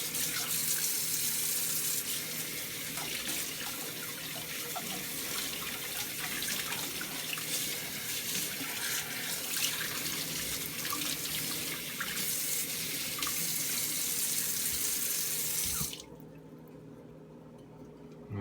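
Kitchen water tap running steadily while a juicer bowl is rinsed, a continuous close hiss and splash with small shifts in the flow, ending in a quieter stretch of softer splashing.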